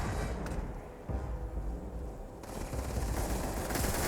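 Turrets and guns fire in the video game Starfield, giving a dense, continuous rattle of rapid shots and thuds that swells louder toward the end.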